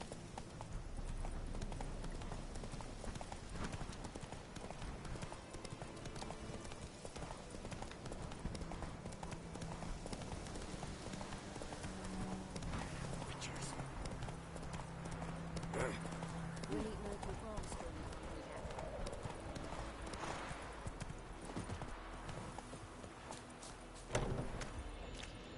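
Roach, a horse in The Witcher video game, gallops with a steady, fast clip-clop of hooves on the ground across the whole stretch, under background game sound and a voice that talks over it.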